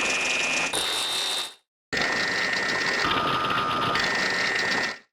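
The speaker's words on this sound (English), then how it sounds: "I might want to adjust a filter on just this noisy ringer." A noisy ringer synth patch in Logic's Alchemy synthesizer plays bright, buzzing, bell-like tones with a harsh noisy edge, sounding as two sustained phrases split by a brief gap of silence, loud and close with no talking.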